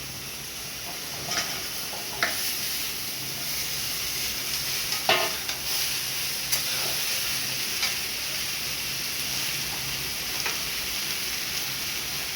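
Pumpkin greens go into a pan of lightly fried potato and eggplant, giving a steady, close sizzle with occasional sharp stirring clicks and scrapes, and no voices.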